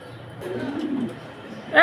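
Mundian pigeons coo softly at a pigeon farm, a low brief burbling in the middle of the moment, while someone talks nearby and a sharper noise rises at the end.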